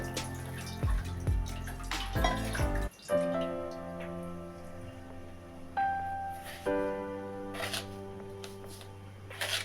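A glass of water is poured into a pot of pepper rasam, a brief splashy gush followed by resonant, ringing drips and ripples in a quiet kitchen.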